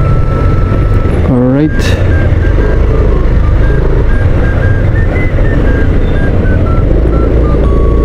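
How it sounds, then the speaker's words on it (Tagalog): Heavy traffic in Malagasang, Imus, Cavite, with a steady loud roar of engines, a brief rising horn or siren near the start, and a chain of faint, evenly spaced reversing beeps. Someone speaks briefly over it. "Ayan mga idol, as you can see, napaka-traffic."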